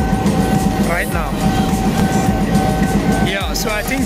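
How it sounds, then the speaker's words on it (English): A steady, loud train engine rumble with a droning hum as the train prepares to depart on the Aba to Port Harcourt line, accompanied by faint clattering and brief muffled voices nearby. "The engine has been turned on and we are about to see the train moving"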